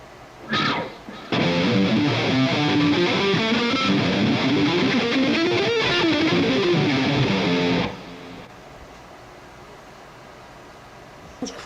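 Electric guitar played through an amplifier, with fast sweep-picked runs forming a dense, distorted, continuous wash for several seconds before cutting off into a quieter tail.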